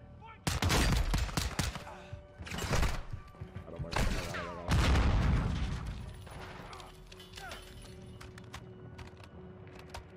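Loud bursts of rapid gunfire from Call of Duty Modern Warfare 2 on PS5, several heavy volleys crackling in quick succession with shorter shots between, fading to a lower rumble of distant firing.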